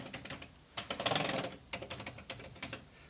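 Typing on the QWERTY keyboard of a Commodore VIC-20 computer: a fast, irregular run of clacky keystrokes, close and fairly loud, with a denser flurry in the middle and no talk.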